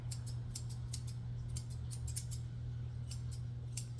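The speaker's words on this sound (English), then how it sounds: "I try to keep my scissors in an angle also." Rapid, repeated snips of scissors trimming a puppy's fur during grooming, close by, in quick irregular bursts over a low steady hum.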